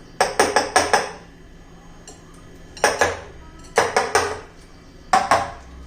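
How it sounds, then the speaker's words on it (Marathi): Filled cake tins of mango semolina batter rapped on a counter to knock out air, close metallic clatters in quick bursts of three or four taps, separated by short pauses. "आपल्या वाट्यात पाच वाट्या भरून झालेल्या आहेत टॅप करायच्या"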